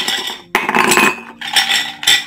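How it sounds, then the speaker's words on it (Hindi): Ice cubes dropped into a bowl for falooda, a few clattering, clinking bursts of hard chunks striking the dish in quick succession, close and fairly loud. "उसमें आइस डालेंगे।"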